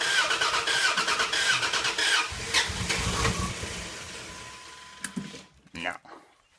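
A 2001 Dodge Dakota engine cranks over and over without catching, a steady grinding starter rhythm that stops, followed by a few short sputters, with brief talk nearby.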